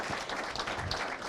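Wedding guests at a ceremony applaud after the couple's vows, a brief burst of many hands clapping in a dense, even patter from a close-by crowd.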